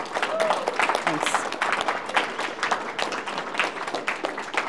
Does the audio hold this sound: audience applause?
yes